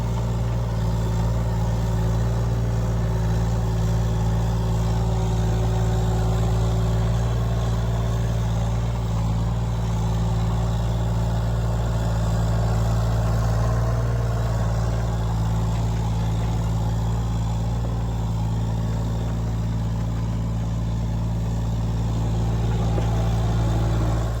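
Newer earthmoving machine shaping a driveway, its diesel engine running in a steady low rumble at a constant level with little change in load, near and continuous.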